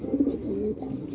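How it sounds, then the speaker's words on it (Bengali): Bogura breed pigeons coo nearby, a brief low throaty warble, soft and alone. "বগুড়া জাতের কবুতর"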